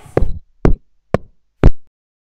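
Four separate knocks on a door, evenly spaced, close and sharp, each a solid hollow thud, with the last slightly heavier.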